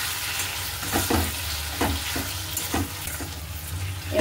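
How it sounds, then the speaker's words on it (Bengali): Chili chicken pieces sautéing in a hot pan, a steady loud sizzle with repeated scraping stirs roughly every half second, no talking. "এটা একটু কষিয়ে দিই"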